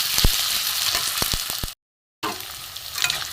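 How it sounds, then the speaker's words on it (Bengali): Potatoes fry in hot oil, a steady close sizzle with a few sharp utensil knocks, broken by a short gap of silence before the sizzling resumes. "আলুটা ভাজা হলে এটা আমি দিয়ে দেবো।"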